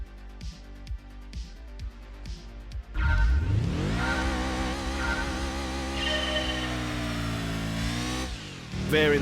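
Car engine in Gran Turismo 2 during a 400-meter speed test, idling with short blips and then roaring into hard acceleration, climbing steadily through the revs, loud and close, before cutting off at a gear change.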